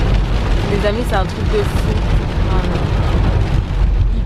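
Heavy rain pours down in a constant loud roaring wash with no breaks, while a person talks excitedly over it.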